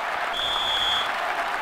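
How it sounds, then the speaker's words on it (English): Stadium crowd in the ISS Pro Evolution football game, England vs Japan, cheering as a steady broad roar that holds evenly through the clip, loud and continuous with no voices. "The crowd had gone quiet for a moment there, but they've woken up."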